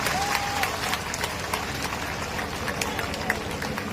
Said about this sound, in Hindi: जोरदार ताली बजा करके स्वागत करिए आप लोग